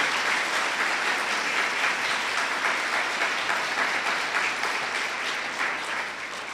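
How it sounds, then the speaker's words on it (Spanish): A church congregation applauds during a Spanish-language sermon at a church anniversary service, with steady, loud, sustained clapping from many hands throughout and no voices on top. "Dele otro aplauso"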